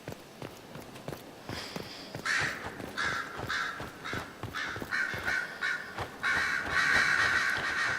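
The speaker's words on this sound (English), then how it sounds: "Why are there crows in here?" Indoor crows in the fantasy game Dragon Age: Inquisition caw harshly and repeatedly over the sound of footsteps, growing denser and louder toward the end.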